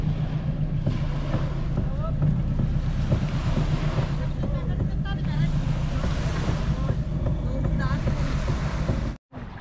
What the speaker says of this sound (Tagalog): Ayan oh, may patabing bangka.